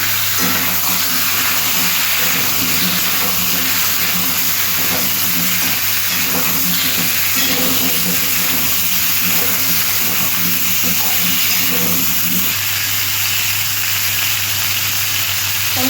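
Bottle gourd pieces fry lightly in oil, giving a steady, even sizzle and hiss that carries through the whole stretch with faint utensil movement and no voices.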